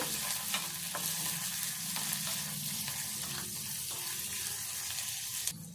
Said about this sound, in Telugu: ఈ పచ్చిమిర్చి, ఉల్లిపాయ, ఈ కొత్తిమీర వేసుకోవాలి. కొంచెం ఇదంతా కూడా వేగాలి.